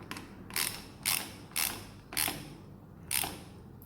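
Five evenly spaced ratcheting bursts, roughly half a second apart, as a ratchet tightens a part back up during a SpeedGhoul 2017+ installation; crisp, close and alone over a faint background hum.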